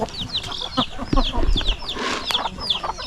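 Chickens cluck and chirp repeatedly in an outdoor farmyard, with brief rustling and low background noise between calls.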